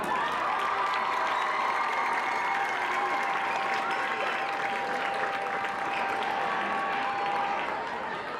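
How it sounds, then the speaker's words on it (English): Spectators at a high school football game applaud the seniors, a sustained, dense clapping from a large crowd with a faint tone running underneath, slowly easing toward the end. "Let's give them another round of applause."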